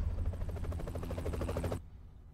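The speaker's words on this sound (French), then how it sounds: "Il y avait donc un hélicoptère!" Helicopter rotor in the video game Broforce, a loud rapid chopping thrum close up that cuts off abruptly near the end, leaving quiet.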